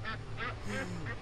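Cartoonish duck quacks from the iPad platform game Legend of the Brofist, four short bursts in a steady rhythm over a low, humming game soundtrack.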